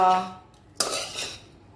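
Metal utensil clatters against a pot of khichdi, a short scrape followed by a louder clank and stirring scrapes, close up with no talking.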